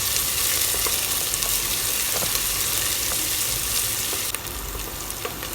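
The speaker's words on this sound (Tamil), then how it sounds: "ஒரு பெரிய வெங்காயத்தை பொடிசாக நறுக்கி வச்சுருக்கிறேன் அதை போட்டு நல்லா வதக்கி விட்டுலாம்" Steady, dense sizzling of finely chopped onions frying in hot oil for a butter bean stir-fry, continuous and fairly loud, with a few faint clinks of stirring.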